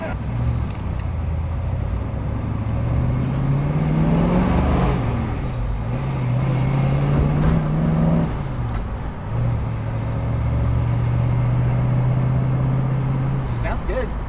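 A 1965 Ford Mustang convertible engine hums and revs in steady surges while driving at a classic car cruise event, with people talking over the rumble.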